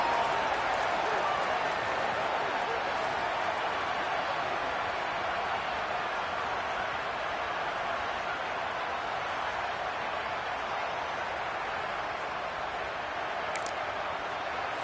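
Stadium crowd noise from a college football video game, a steady loud roar of a hostile home crowd filling the whole stretch with little variation.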